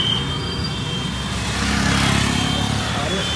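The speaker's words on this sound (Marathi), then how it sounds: "रिक्षावाला पण जोरात गेला" An auto rickshaw speeds past on a rainy road, its engine rising and swelling midway under close, ongoing conversation.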